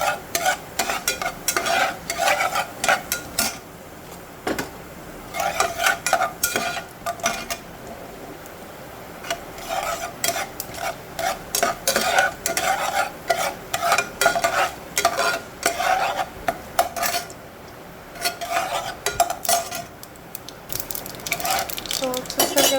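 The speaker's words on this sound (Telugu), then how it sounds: "సో చూస్తారు కదండి, పోపు వేగుతుంది." A tempering of black gram lentils, Bengal gram lentils and mustard seeds sizzles in oil for upma, overlaid by bursts of rapid spoon scraping and stirring against the pan, with quieter pauses between.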